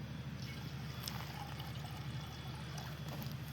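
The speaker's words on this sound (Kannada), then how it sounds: "ಸ್ವಲ್ಪ ಅದ್ರೊಳಗೆ ಸ್ವಲ್ಪ ನೀರು ಹಾಕಕ್ರಿ." Water trickles and pours into a pot of milk while tea is being made, a soft, faint splashing and dribbling over a steady low hum of background noise.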